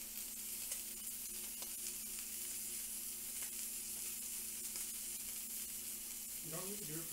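Continuous close sizzling of food frying in a pan, an even crackling hiss that runs throughout, with a brief voice-like sound near the end.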